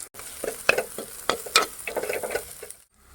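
Onions sautéing in a pan for a Kerala beef and koorka curry, a close steady sizzle broken by quick scraping stirs of a spoon, fading out at the end, with no voices.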